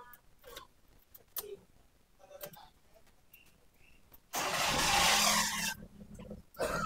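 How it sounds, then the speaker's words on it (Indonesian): A 2002 Mitsubishi Kuda Grandia engine cranks and fires, a sudden loud broadband roar after several seconds of quiet clicks and taps, holding steady as it idles before dipping and rising again. "Nih, coba kita hidupin ya mesinnya nih."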